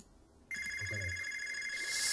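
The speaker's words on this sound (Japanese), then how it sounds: "すいません私の携帯のメールでございます" Mobile phone mail notification ringtone, a sudden bright electronic tone that starts abruptly and holds steadily, loud and close, with a brief voice murmur underneath.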